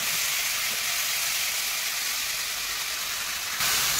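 Tomato paste hits hot oil in a pan while cooking a vegetarian cauliflower dish, giving a steady, loud broadband sizzle that holds throughout and swells slightly near the end.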